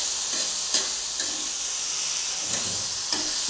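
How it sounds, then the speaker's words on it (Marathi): Diced potato and chutney fry in hot oil in a pan, giving a close, continuous sizzling hiss broken by a few soft scrapes of stirring. No voices are heard. "आता आपण 1-2 मिनिटं चांगलं परतून घेऊया"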